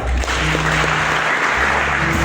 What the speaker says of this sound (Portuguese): convido a Santa Igreja a soltarmos 3 fortes salvas de palmas